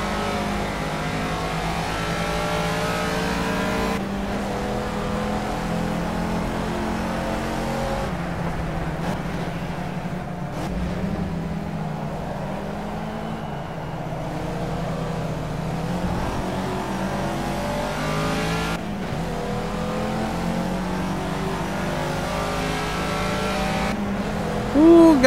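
A Caterham Academy race car in the Project Cars racing game, its engine droning and slowly rising in pitch as it climbs through a long fourth gear, with brief shifts and a steady, moderately loud tone.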